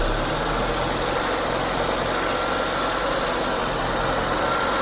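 Car engine running steadily during an air-conditioning gas recharge, a continuous even hum with a constant low drone and hiss, no voices, unchanging throughout.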